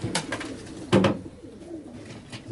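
Late-hatched pigeons in a loft give soft cooing calls, with a louder burst near the middle and a few faint calls later, close by and without talk.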